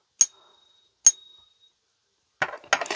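A silver coin is struck and tested twice, each strike giving a bright, clear ringing ping that decays over about half a second, followed by a few short metallic clinks and handling noises.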